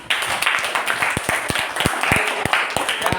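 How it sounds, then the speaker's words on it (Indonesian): Students in a classroom clap in a lively, uneven round of applause, close and fairly loud, with individual claps standing out sharply. "tepuk tangan dulu"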